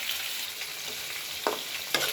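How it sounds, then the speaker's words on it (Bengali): Tomato and spices fry in a pan for a Bengali fish-head bhuna, a soft steady sizzle with two brief stirring scrapes near the end, close but fairly quiet. "মশলা টমেটো একসাথে ভালোভাবে ভেজে নিচ্ছি"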